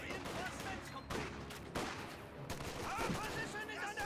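MG42 machine gun fire in the World War II strategy game Company of Heroes 2, repeated bursts of gunfire amid steady battle noise, with a commentator talking over the combat.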